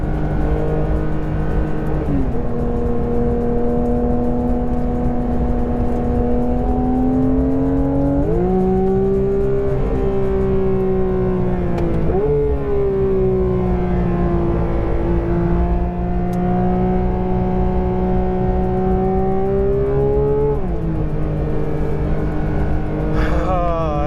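A Porsche lapping a race track roars steadily and loudly from inside the car, the engine pitch climbing through gears and dropping on downshifts in repeated cycles with no pause.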